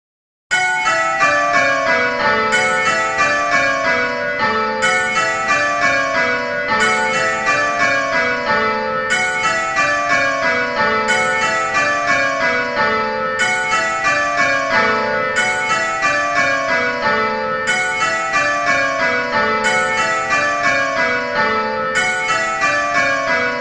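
Simulated church bells ring in continuous rows of change ringing, each row a rapid descending run of bright, sustained metallic strikes repeating in steady rhythm, loud and unbroken with no talk.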